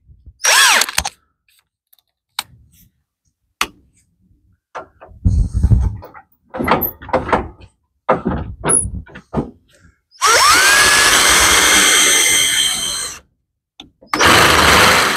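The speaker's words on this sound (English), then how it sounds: "Now I'm going to have to use the half-inch drill bit to do that." A cordless drill fitted with a half-inch bit enlarges a hole on a Craftsman Tight Turn riding mower, whirring in several short bursts with a ratcheting clatter, then one long sustained run of nearly three seconds and a final burst.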